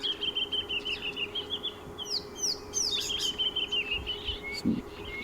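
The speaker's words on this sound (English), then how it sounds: "There seems to be a really beautiful little bird party going on here." Wild birds in African bush during a morning safari drive, several species chirping, whistling and calling over one another at moderate distance, with a low steady hum underneath and a brief clucking note near the end.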